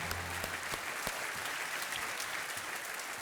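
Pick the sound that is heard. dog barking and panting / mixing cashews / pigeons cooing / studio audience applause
studio audience applause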